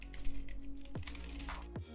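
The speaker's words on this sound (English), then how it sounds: "when I'm typing it feels like all the other keys are like moving" Cheap Wish gaming keyboard keys clatter in a quick, uneven run of close plastic taps, with a couple of squeaky rattling sweeps between strokes.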